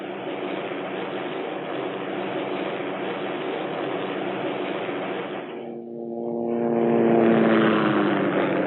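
A Hughes OH-6 Cayuse light observation helicopter flies steadily, its engine and rotor making a continuous loud drone that dips briefly, then swells again with a rising whine as it passes near.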